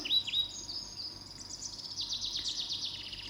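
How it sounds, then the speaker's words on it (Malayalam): Several small birds chirp and twitter in the morning in quick, repeated calls over quiet background hum, moderately close and fairly faint. "ഇവിടെ നല്ല കിളികളുടെ കളകളാ ശബ്ദം കേൾക്കൂട്ട"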